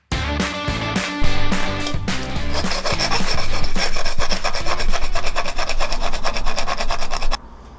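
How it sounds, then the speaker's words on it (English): Steady rasping strokes of a file enlarging a drilled hole in metal on a Honda CB250 scrambler build, rapid and rhythmic, close up and continuous, with no talking. "drill it as big as I can and then gently file it out until that fits"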